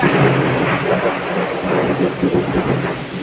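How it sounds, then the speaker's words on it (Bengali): Loud thunder rolls and rumbles during a rainstorm, a long low growl that swells and fades over a constant wash of falling rain. "সব শুনতে পাচ্ছ প্রচুর মেঘ ডাকছে প্রচুর মেঘ ডাকছে"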